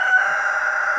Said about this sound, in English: It's one of the new roosters.